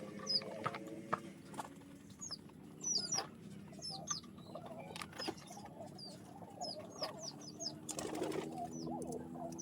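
A very large pigeon, nearly hen-sized, flaps its wings in bursts around a backyard loft at dusk, with scattered clucking and chirping from other birds nearby throughout.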